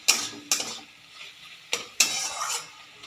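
Spoon scraping and stirring snake gourd poppy seed curry in a pan after sugar is added, four distinct close metallic strokes separated by short pauses with a faint sizzle beneath.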